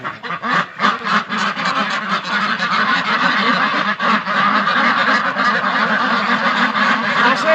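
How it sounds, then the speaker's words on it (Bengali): A flock of white Pekin ducks at a duck farm calls nonstop, loud, close honking quacks overlapping in a dense, continuous chorus. "ডাক দেখছেন হাঁসগুলোর ডাক দেখেন"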